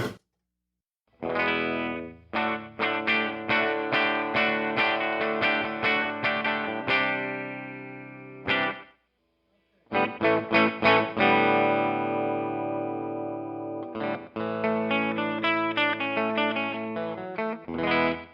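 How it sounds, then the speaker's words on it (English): Electric guitar played through a Rocknroll Amps Duoplex 2EL84 amplifier with delay and reverb from a pedal board, ringing strummed chords and picked phrases that stop briefly near the middle, then resume and sustain with a reverberant tail. "I got a little bit of delay and reverb on the pedal board because I like it"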